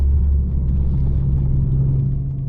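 Alfa Romeo Spider 916 with its 3.0-litre 24-valve V6, a front-wheel-drive roadster, driving along with a steady, deep engine rumble and drone throughout, heard from inside the car without any talking.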